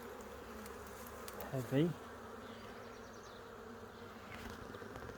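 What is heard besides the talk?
honey bees buzzing during beehive inspection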